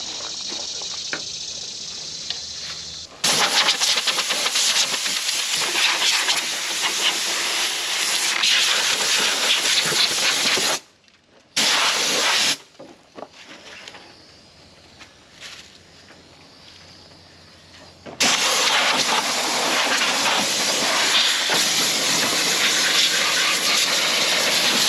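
Compressed air blasts leaves and debris out of the engine bay of an abandoned 1931 Ford Model A flatbed. Loud, sustained hissing bursts come close up, separated by a short break and a quieter stretch before a final long blast.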